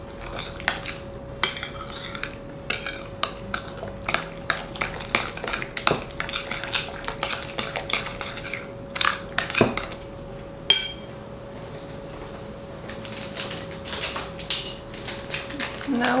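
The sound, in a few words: mixing muffin batter with a utensil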